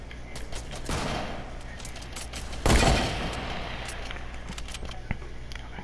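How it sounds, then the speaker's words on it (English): Rapid bursts of gunfire from the video game Fortnite, loud and close, with dense volleys around the first second and again near the three-second mark, then scattered single shots. "Keep shooting, keep shooting, keep shooting. He's gonna try and snipe you."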